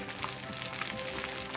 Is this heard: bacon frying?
yes